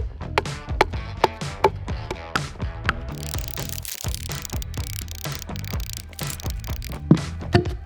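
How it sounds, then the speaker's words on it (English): A small axe strips bark from logs in a winter forest, making a steady run of sharp, close scraping chops at a quick, slightly uneven rhythm, with no talk. "We need to strip the bark from these logs. A small axe does the job perfectly."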